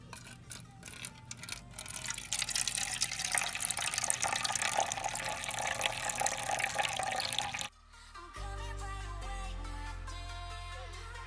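Fresh water pours into a leopard gecko's water bowl, a close, steady splashing stream that runs for several seconds before cutting off into quieter indoor background.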